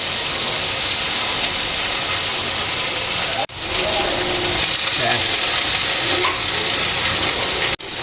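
Washed moong beans fry in a pan with roasted onion, giving a constant sizzle and hiss with a voice talking faintly underneath.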